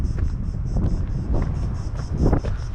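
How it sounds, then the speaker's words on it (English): Strong wind buffets the microphone on the summit of Mount Lycabettus in Athens, a loud, steady low roar with repeated gusts swelling and easing. "Oh, it's windy."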